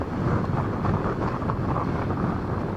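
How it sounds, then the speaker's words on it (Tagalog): Strong wind gusts buffeting the microphone on a seaside boulevard beside a business park, a steady, loud, broadband roar filling the whole stretch with no voices. "Grabe, lakas ng hangin."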